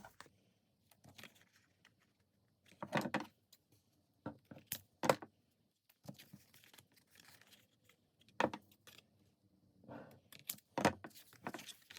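Scissors cut paper into tags for a mixed media junk journal, giving short, quiet snips and rustles in scattered bursts with pauses between them and no talking.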